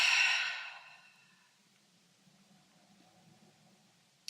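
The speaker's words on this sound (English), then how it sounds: "You're going to take a deep exhale through your mouth." A single deep exhale through the mouth during a guided breathing exercise, a loud breathy rush in the first second that fades into quiet, with a faint click at the very end.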